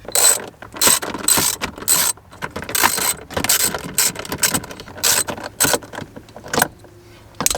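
A ratchet clicks rapidly up close as it works out the 10 mm bolts on a Nissan 350Z shifter, with irregular bursts of sharp metallic ratcheting and brief gaps.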